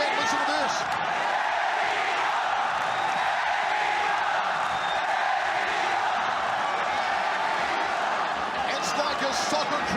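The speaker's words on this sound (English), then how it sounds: "Here come the chants again, listen to this." Fight arena crowd at a knockout bout, a dense roar of chanting and cheering spectators that holds steady and loud for the whole stretch, with an announcer's voice running over it.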